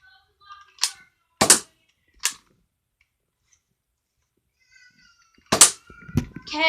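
A Nerf Fire Strike blaster fired several times: sharp dry snapping shots spaced apart, a few in quick succession, then a closing cluster of clacks and rattles, with silence between.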